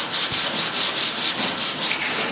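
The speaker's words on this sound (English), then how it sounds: "So I'm getting more rusty junk off." Hand sanding rust off the sheet-metal hood of a Farmall Super M tractor, about ten quick rhythmic back-and-forth scrubbing strokes, close and raspy, with no talking.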